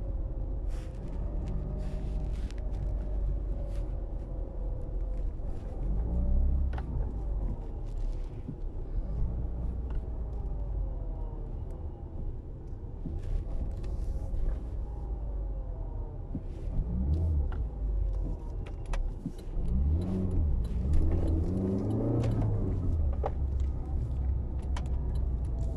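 A 136 hp petrol Citroën Xantia Exclusive is driven: a steady engine and road rumble persists throughout, with rising and falling tones as it works through gears, and occasional rattles inside the cabin.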